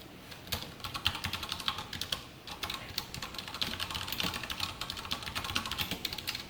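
Fingers type code on a computer keyboard in a rapid, steady clatter of close key clicks that continues without pause and without speech.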